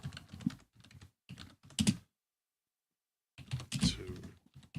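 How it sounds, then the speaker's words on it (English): Quick bursts of typing on a computer keyboard, clattering keystrokes in uneven runs separated by a pause of silence, close and fairly quiet. "And again, it's my typing."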